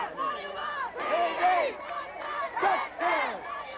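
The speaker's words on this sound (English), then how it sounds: "rowdy crowd from Prattville." A rowdy Prattville high school football crowd cheers and shouts in surging waves during a 1987 fourth-quarter game at Tuskegee Institute, with several swelling bursts of yelling close by.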